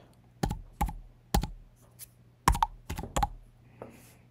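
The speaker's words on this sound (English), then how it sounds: "we're going to type in that code that you get from your Google" A computer keyboard being typed on to enter an authentication code, about eight sharp, separate key clicks in uneven rhythm, close and clear against near silence.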